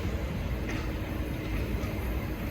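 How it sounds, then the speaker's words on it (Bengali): A city tram passes nearby as a steady, loud broadband rumble with no distinct peaks, filling the whole moment without speech. "এটা হচ্ছে ট্রাম। এই ট্রাম দিয়ে আমার কাজের ওখানে যাওয়া যায়।"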